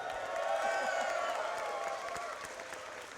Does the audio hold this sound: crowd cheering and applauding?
yes